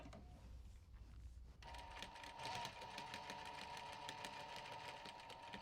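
A sewing machine stitching a bumbag slowly with small stitches: after a quiet start, a fast even run of mechanical ticks and whirring begins and continues close and clear, no talking.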